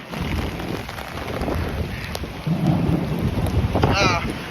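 A severe thunderstorm over Midtown Manhattan brings steady heavy rain with hail, loud and close, with rain pattering on an umbrella and a rumble of thunder, while a person talks briefly.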